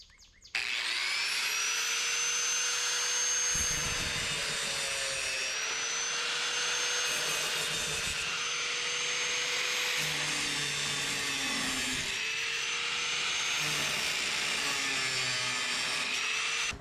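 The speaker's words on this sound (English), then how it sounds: "use the cutoff wheel with the Metabo" A Metabo tool spins a cutoff wheel through steel rebar for a rebar cage build. The grind is loud, steady and high-pitched and runs continuously close by, with slight shifts in pitch as the blade bites.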